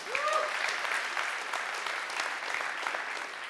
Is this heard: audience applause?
yes